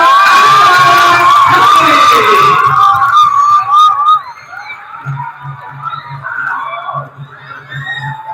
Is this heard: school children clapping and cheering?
yes